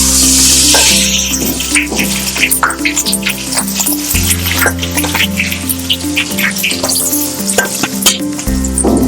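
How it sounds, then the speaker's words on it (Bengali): Potato pieces fry in hot oil in a pan for a Bengali jackfruit and prawn malai curry, giving a steady loud sizzle with bubbling crackles and occasional stirring scrapes throughout. "এই তেলে আমি আলুগুলো দিয়ে একে একে ভেজে নেব।"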